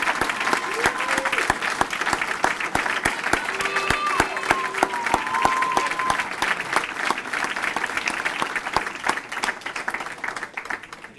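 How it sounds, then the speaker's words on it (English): An audience at a charity gala for a Boys & Girls Club claps in a dense, sustained round of applause that fades near the end, with scattered voices and murmurs mixed in. "Please, a nice big round of applause"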